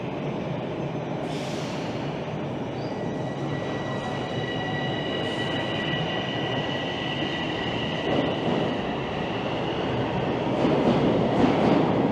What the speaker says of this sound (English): Maybe I should have waited for the train to finish rolling out before I started this one